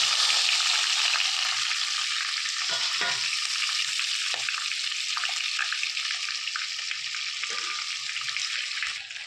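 Mango, shallots, tomato and a green chilli frying in a pan, giving a loud, dense, steady sizzle with a few stirring knocks, close up and continuous with no speech.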